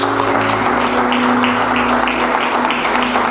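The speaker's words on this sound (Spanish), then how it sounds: "¿Cuánto le da un aplauso al Señor por eso?" A church congregation applauds continuously at full volume, a dense, steady wash of clapping with faint traces of voices and a sustained organ or keyboard tone underneath.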